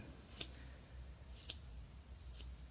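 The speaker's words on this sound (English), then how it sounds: "Have some smaller sharp scissors." Small sharp scissors trim a yarn pom-pom in three quiet, crisp snips spaced about a second apart over a soft background hiss.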